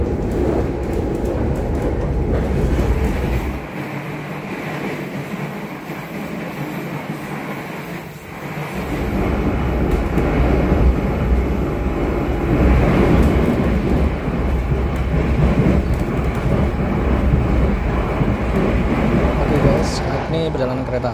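Argo Merbabu passenger train running near Semarang, a steady loud rumble of wheels and carriages heard from onboard, with a brief quieter dip partway through.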